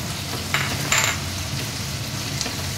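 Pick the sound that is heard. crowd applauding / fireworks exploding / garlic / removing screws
garlic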